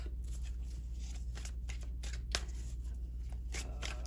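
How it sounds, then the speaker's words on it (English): Tarot cards riffle and shuffle steadily in a continuous crisp flutter, close up, with no talking. "shuffling these cards a little bit"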